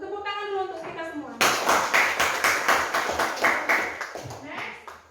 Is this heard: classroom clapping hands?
yes